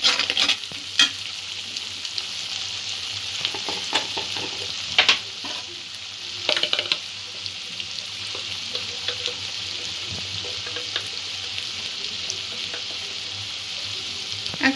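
Food stirred and fried in a pan, with a steady close sizzle throughout and occasional louder scrapes and clatters of the spoon against the pan.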